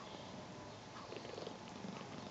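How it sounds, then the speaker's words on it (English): A cat purrs very faintly and softly up close while its hip is being scratched, a low continuous rumble under quiet room noise. "Oh, she starts purring immediately."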